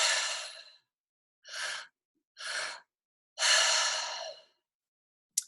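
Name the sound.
breathwork pattern: two mouth inhales, belly then chest, one exhale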